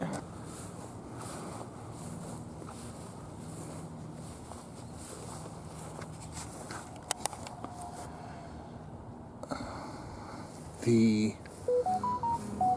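Phone keypad tones pressed by accident while touring a transportation museum, a short run of distinct beeps near the end over a steady indoor hubbub of voices and footsteps.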